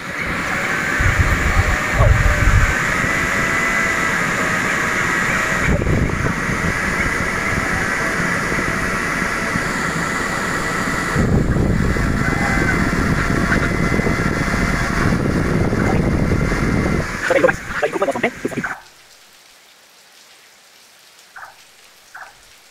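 Kitchen cooker hood exhaust fan, in service for ten years, blowing steadily with a loud broadband rush of air that cuts off near the end, leaving quiet room tone.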